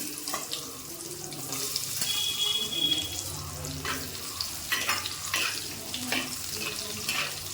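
Shallots sputter and sizzle in hot coconut oil for a brinjal and shallot curry, a steady crackling fry with a few faint scrapes and no talking.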